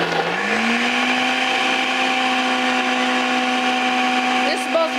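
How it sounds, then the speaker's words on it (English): A fruit blender strains against ice while making a slushie, its motor whining loud and steady with a strong sustained hum that rises slightly in pitch near the start, and a clatter near the end. "I'm just unfortunately having to force the blender to do what I want it to do."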